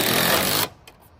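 A power drill drives a screw into a gutter fascia board, a short loud whirring burst that stops abruptly and is followed by faint clicks.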